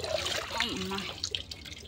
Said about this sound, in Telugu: చెట్లకి వాటర్ పట్టేద్దాం